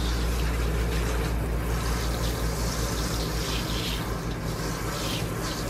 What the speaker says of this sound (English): you just want to get that coat fully drenched with water